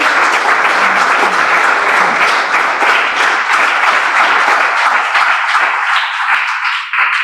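A church congregation claps for God at a Sunday morning service, a loud, dense, continuous round of applause from many people that holds steady before ending abruptly.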